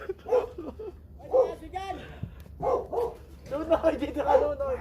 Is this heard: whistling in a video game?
no